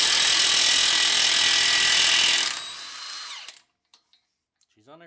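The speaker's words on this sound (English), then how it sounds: "using a 36mm axle nut, we'll take it off." A power impact tool spins off the 36mm axle nut on a Honda Accord during a lower ball joint job, a loud continuous whir that winds down and stops, followed by a few faint clinks.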